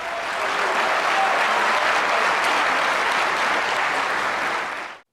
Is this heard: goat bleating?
no